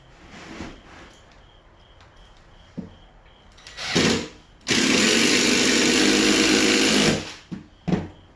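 Power drill driving screws into a mobile home floor, a few short bursts followed by one long loud whirring run of about two seconds, then brief clicks and taps.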